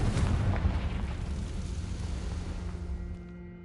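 A Confringo spell explodes in the video game Hogwarts Legacy as a heavy, rumbling boom that sustains with a deep roar and slowly fades out over a few seconds, loud and alone.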